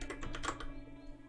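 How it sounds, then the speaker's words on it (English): Rapid typing on a computer keyboard on a desk that carries the sound into a nearby microphone, a close, dense run of clacking keystrokes that tapers off, with no talking. "I don't hit my keyboard that hard. It's just kind of loud because my table"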